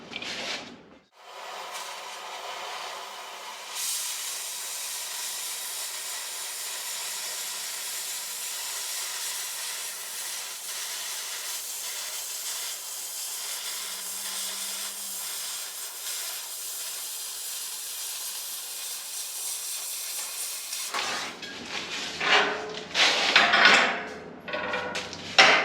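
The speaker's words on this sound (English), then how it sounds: "So we're going to cut a plate out." A steel plate being cut for a street stock race car build, giving a long steady hissing roar that runs continuously for about twenty seconds before breaking into rougher scraping and clanking near the end.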